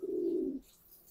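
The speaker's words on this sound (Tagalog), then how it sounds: "Ayun, mga ibon ni idol." A racing pigeon gives one close, low throaty coo lasting about half a second, then quiet.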